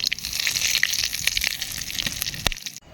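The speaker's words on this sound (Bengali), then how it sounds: "ওই তেলে ফোড়ন দিয়ে দেবো গোটা জিরে, শুকনো লঙ্কা, গোটা গরম মশলা আর 2টো তেজপাতা" Whole cumin, dried chilies, whole garam masala and two bay leaves sizzle loudly in hot oil, crackling with sharp pops and spatters until the sound cuts off abruptly near the end.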